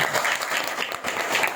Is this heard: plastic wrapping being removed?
no